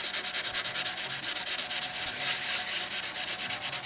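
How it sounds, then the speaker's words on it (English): Gentle hand sanding of a fresh Brodak dope finish on a model airplane, wet-sanded with Sikkens M600, producing a steady rhythmic rasp of quick back-and-forth strokes, close up and continuous with no talking. "I want to sand it just gently"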